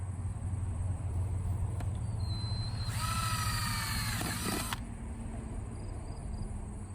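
An electric drill fitted with a 13/64 bit bores holes for a parachute mount on an S197 Shelby GT500 Mustang, a short whining run of about two seconds over a steady low background hum.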